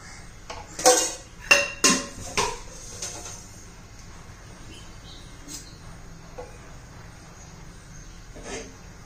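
A tava on the stove as oil goes in for a dry spinach dish gives a run of loud metal clanks near the start, then quiet with faint birds chirping in the background.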